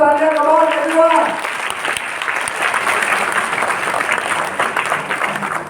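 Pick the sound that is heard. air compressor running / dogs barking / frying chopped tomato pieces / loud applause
loud applause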